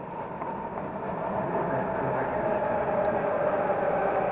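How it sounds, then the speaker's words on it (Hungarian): A Budapest M3 metro train runs through the station at afternoon rush hour, a steady, fairly loud rumble and hum that swells slightly as it continues, with no clear speech. "A sűrűen járnak a metrók,"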